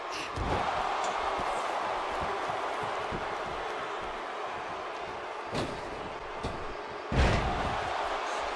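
A wrestler is slammed onto the ring mat during a wrestling match, with a few heavy thuds near the start and toward the end over a constant wash of background noise.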